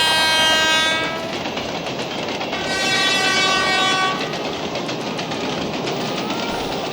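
A train rolls past with its horn sounding loudly in long blasts, wheels clattering steadily on the rails beneath, close and dominant throughout with no voices.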